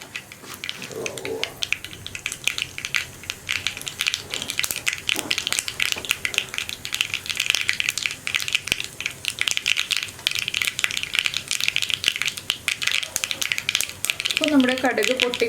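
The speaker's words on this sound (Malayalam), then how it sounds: "കടുകൊന്ന് പൊട്ടി വരട്ടെ." Half a teaspoon of mustard seeds popping and crackling in hot oil in a pan while making kumbalanga pachadi, a busy stream of sharp little pops and sizzle, heard up close throughout.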